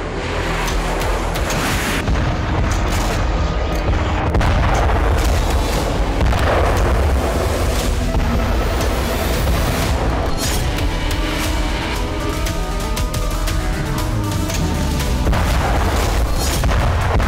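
Loud, continuous booming blasts and heavy rumbling from explosions and artillery fire in the Crimea and Samara area, dense and chaotic throughout.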